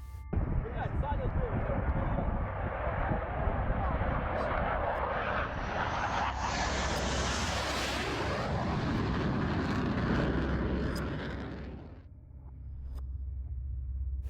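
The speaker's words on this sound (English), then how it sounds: "he suddenly begins to hear what sounds like planes flying around low to the ground" Aircraft fly low overhead in New Jersey: a heavy engine roar swells and sweeps past, then cuts off abruptly and leaves a low rumble.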